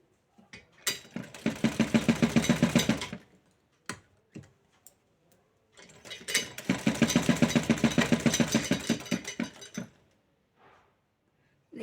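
Sewing machine stitching a blouse seam in two long runs of rapid, even mechanical ticking, each lasting about two seconds, separated by a pause with a few isolated clicks and taps.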